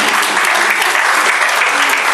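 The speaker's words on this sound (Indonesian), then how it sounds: "Ya, tepuk tangan buat mereka." Audience applause for three children from Papua standing up at a church gathering, a dense, steady wash of many hands clapping close by for about two seconds without a break.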